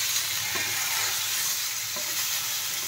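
Vegetables with salt and turmeric fry in a pan under a steady, dense sizzle, with a couple of soft knocks from stirring near the start and toward the end.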